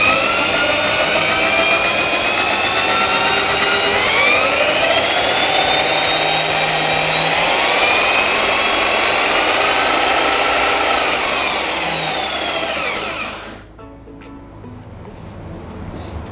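A Mollar JS650 laser-guided electric jigsaw cuts through plywood with a loud, steady motor whine and rasping blade for about thirteen seconds, then stops abruptly, leaving quiet room noise.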